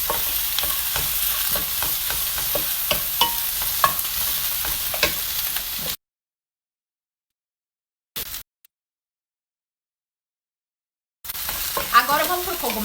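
Small red onion frying in a pan while being stirred, a steady close sizzle with repeated scraping strokes, cut off by a long silent gap before the sizzling resumes briefly.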